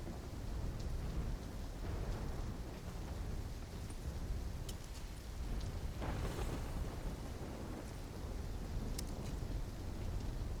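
A thunderstorm with heavy rain in Call of Duty: Black Ops III, a dense, constant roar of rainfall with low rumbling thunder swelling beneath it and a few sharp crackles. No voices.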